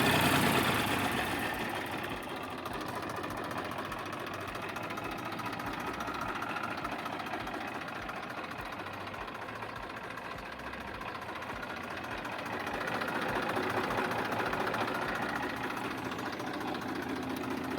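A Massey Ferguson 241 tractor with new engine oil idles steadily nearby, a low, even mechanical rumble that holds without change.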